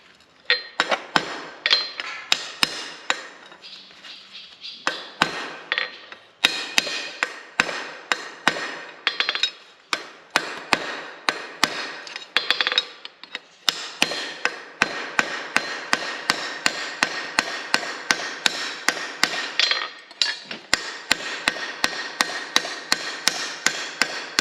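A hammer strikes a hot rivet on blacksmith pickup tongs at the forge, with no power hammer involved. Dozens of sharp, ringing blows come in quick, uneven bursts, some clustered and some spaced, all close and loud.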